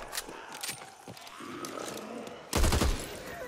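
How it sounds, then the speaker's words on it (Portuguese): Gunfire in the zombie shooter Back 4 Blood, scattered shots early followed by a loud, dense burst of rapid fire near the end, with in-game rumble underneath. "Eu vou dando tiro porque eu gosto de dar tiro."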